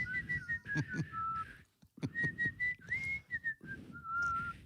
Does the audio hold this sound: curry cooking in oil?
no